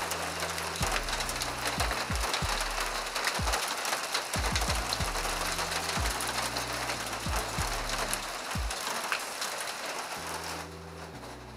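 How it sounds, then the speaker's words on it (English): A torrential downpour with hail roars steadily and loudly over a workshop in Oregon, a dense unbroken hiss with intermittent low mechanical thumps and hums beneath it. "Torrential downpour,"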